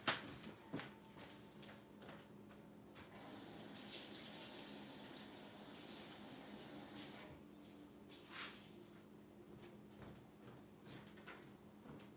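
Water runs from a tap beside a dining room table used for stamping, a steady broadband rush that starts partway in and stops before the end, with faint handling clatter around it.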